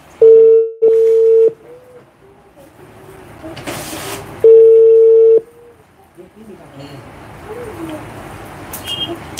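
A telephone line gives two steady electronic tones, one long and one shorter, then a pause and a third tone, while a call is being placed. Faint background noise fills the gaps between the tones.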